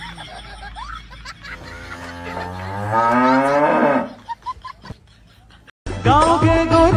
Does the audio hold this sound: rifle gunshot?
no